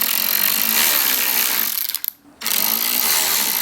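Close, loud whine of a power driver running Torx T27 windshield hardware on a Harley-Davidson, a steady buzzing drive that pauses briefly midway with a short gap of near silence before resuming, with no talking.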